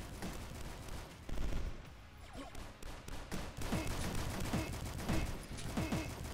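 In the PC shooter Dusk, a grenade launcher fires repeatedly amid dense game combat, with sharp blasts and explosions layered over a busy, loud mix of gunfire and effects.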